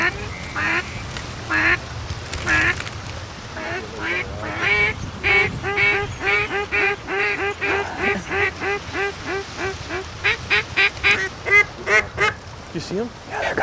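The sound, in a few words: mallard ducks quacking in flooded corn field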